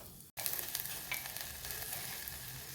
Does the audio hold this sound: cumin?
yes